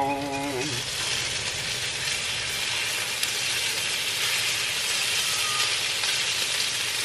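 Bacon sizzles steadily on a Blackstone flat-top griddle, a loud, continuous frying hiss that fills the whole stretch, with a brief voice at the very start.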